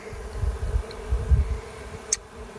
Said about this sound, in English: Quite a few bees in here